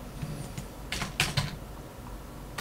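A few quick key presses on a computer keyboard cluster in the middle while navigating an Excel spreadsheet with the tab and return keys, set against a faint steady background hum.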